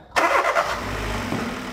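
A car engine cranks and catches after a short silence, then settles into a steady idle, close and fairly loud, with no talking.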